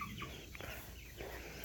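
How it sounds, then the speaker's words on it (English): Young Cornish cross hens and roosters cluck and murmur inside a poultry barn, a close, continuous chatter of overlapping short calls. "This has our young Cornish cross hens and roosters in it."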